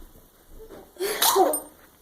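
A Yorkshire terrier lets out one sharp, close sneeze after a moment of quiet breathing.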